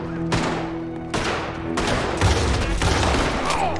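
Shotgun blasts in the Red Dead Redemption 2 video game, several loud, close booming shots spaced roughly a second apart, each with a sharp attack and a ringing tail, no talk over them.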